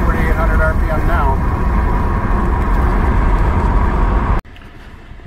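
A 1999 Mercedes-Benz CLK320 engine, which has a fault that makes it cut out at 4,800 RPM, roars loudly and steadily at high revs. The sound drops off abruptly near the end.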